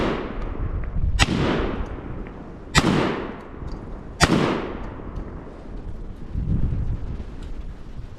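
Three sharp, loud shotgun blasts from a gas-operated AR-12 fired outdoors, spaced a second or two apart, each ringing off into a long rumbling decay, with wind noise in between.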